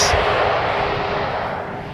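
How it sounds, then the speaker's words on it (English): An EasyJet Airbus Neo airliner arriving from Geneva lands at Amsterdam Schiphol on runway 18R, a loud, steady broadband engine roar that holds for two seconds and eases slightly toward the end. "we saw an Airbus Neo from EasyJet coming in from Geneva, land just now"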